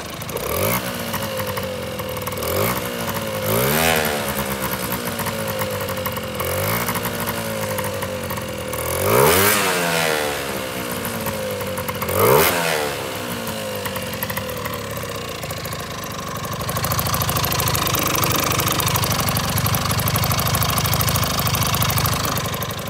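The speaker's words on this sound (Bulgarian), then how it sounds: "Отиваме да тестваме максималната скорост на скутерчето" A tuned Honda Dio AF18 50cc scooter engine runs close by, revved in a series of sharp rising and falling bursts over a buzzing two-stroke idle, then settles into a steadier higher drone.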